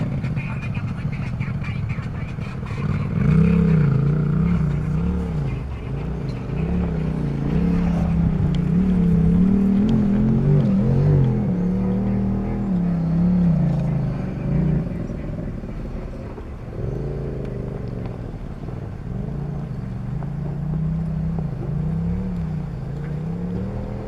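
A 2002 Chevy Avalanche Z71 truck drives off-road at LaGrange OHV Park. Its engine drones and rises and falls in pitch as it revs, while people talk over the rumble throughout.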